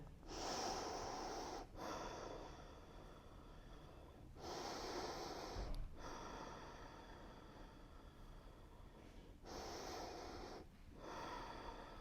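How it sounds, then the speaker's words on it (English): Slow, deep breaths during a yoga shoulder shrug, with the shoulders hugged up toward the ears: three long, airy inhale-exhale cycles, close and steady, separated by brief pauses, with no talking. "take 3 deep breaths here"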